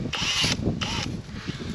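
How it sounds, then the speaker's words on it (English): Drill spinning emery cloth to polish a pin hole on farm machinery, two short high whining bursts of the drill with scraping between them. "Put it on the end of the drill, and it's just going to spin it and just get it all polished and clean."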